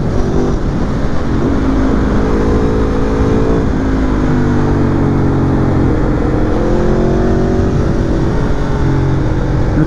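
A 2019 Aprilia Tuono V4 Factory 1100 roars loudly up close while riding, its V4 engine note rising and falling through gears with steady wind rush underneath.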